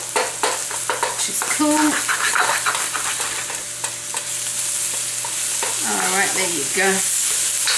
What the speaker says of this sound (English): Scramble him up. Get him scrambled.